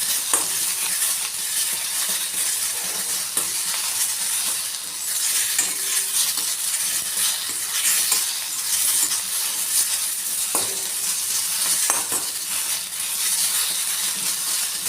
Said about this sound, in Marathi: फक्त आपल्याला कच्चा न ठेवता थोडासा फ्राय करून घ्यायचा आहे कांदा